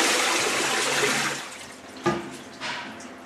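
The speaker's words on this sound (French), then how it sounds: "Hop, on tire la chasse." A toilet flushes during a plumbing job replacing a standard WC with a wall-hung one: a loud rush of water that tapers off over about two seconds, followed by a sharp clunk and a quieter refill trickle.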